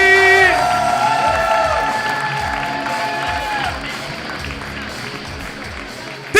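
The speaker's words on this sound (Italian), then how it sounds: "E allora cominciamolo questo applauso, su, battiamo pure il cazzo di piedi per il primo comico della serata" A live comedy-show audience cheers, whoops and applauds for the evening's first comedian. A brief tonal flourish opens the clip, then dense crowd noise holds steady throughout, with rhythmic stomping thumps underneath.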